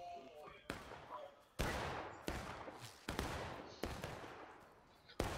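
Musket volleys in the Civil War game War of Rights, fired from a stone wall: a series of sharp, loud gunshot cracks at uneven intervals, each trailing off into a rolling echo.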